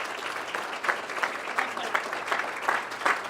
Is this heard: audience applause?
yes